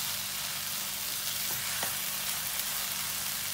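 Capsicum sizzles steadily in a pan with dry masala while a spring roll filling cooks, a constant close frying hiss with a couple of faint stirring clicks.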